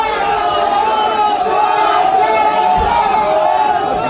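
A large crowd gathered outside a court shouts slogans demanding a hanging, a loud, dense mass of raised voices chanting continuously and close at hand.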